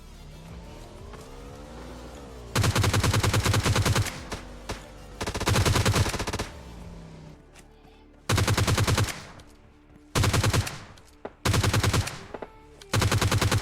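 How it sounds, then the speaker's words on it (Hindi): Gunfire from the battle-royale video game PUBG Lite near a factory area. Loud bursts of automatic fire come in repeated volleys of about one to two seconds, with quieter game ambience and engine-like hum between them. "फैक्ट्री के नीचे वाले घरों की साइड भी कुछ गन साउंड्स वगैरह आ रहे थे।"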